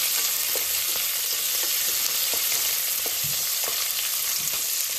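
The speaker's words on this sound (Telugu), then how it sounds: "సన్నగా తరిగిన ఉల్లిపాయ వేసుకుని దీన్ని కూడా చక్కగా వేయించేయాలి" Finely chopped onion fries in a pan, making a loud, even hiss that runs the whole time, broken by faint ticks of stirring against the metal.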